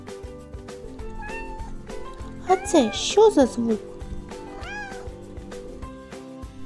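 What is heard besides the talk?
kitten meowing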